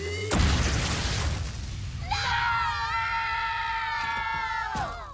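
A cartoon explosion blows up a candy factory in Teen Titans: a loud burst and rumble near the start, then a stretch of noisy chaos and long wavering whistling tones, with faint yelling in the mix.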